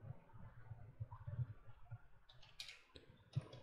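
Quiet, close clicking on a computer keyboard during an online 3ds Max modeling class, a loose run of soft keystrokes with a few sharper taps, with no talking.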